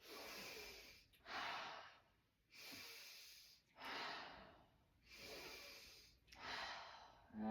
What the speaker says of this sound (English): 3 sharp breaths. And now 3 big mouth breaths.